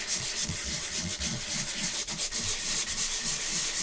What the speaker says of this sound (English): So give it quite a heavy sanding everywhere.